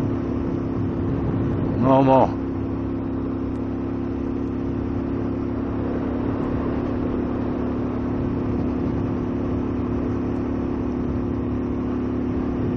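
A car's engine drones steadily on the mountain road toward Babusar Pass, with a short rising rev burst near the start as it shifts up, then a settled hum. A voice speaks briefly.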